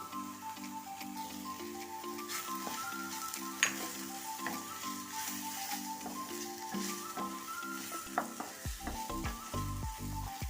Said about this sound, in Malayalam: എല്ലാം കൂടെ നല്ലതുപോലെ ഒന്ന് മിക്സ് ചെയ്ത് കൊടുക്കുക